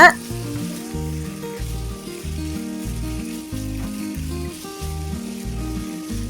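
Marinated chicken for chicken sukka fries in a pan and is stirred. A loud, continuous sizzle plays under steady background music, with no voices.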